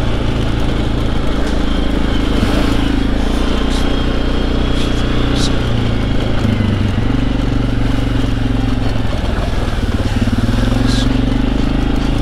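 Suzuki KingQuad ATV engine droning steadily and loudly while riding over bumpy ground, a constant low rumble throughout, with a rider's voice talking over it.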